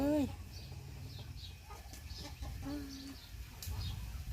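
Chickens cluck and call close by, with small birds chirping and faint voices in the background.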